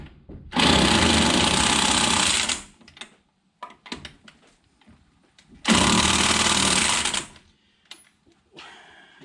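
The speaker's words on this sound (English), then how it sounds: "Either this impact sucks or them things are really tight." Impact wrench removing tight lug nuts from a truck wheel, two long, loud, close hammering bursts of about two seconds each, separated by clanks and handling noise, with a brief third burst starting at the end.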